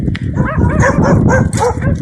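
Several dogs barking in an abandoned village, rapid overlapping barks and yips close by, continuous over a couple of seconds.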